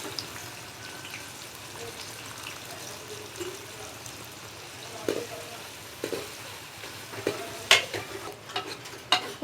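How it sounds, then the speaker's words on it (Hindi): Two large chopped onions fry in oil in a kadai with a soft, steady sizzle, joined by occasional stirring clicks and scrapes that grow sharper and more frequent toward the end. "अब इसके अंदर हम 2 बड़े साइज़ की कटी हुई प्याज ऐड कर देंगे।"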